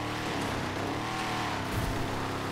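Monster truck engine in GTA V, a loud steady drone with a rising rev across the short stretch, continuous and close, driving over desert terrain.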